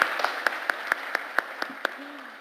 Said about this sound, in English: let's have applause for her and her team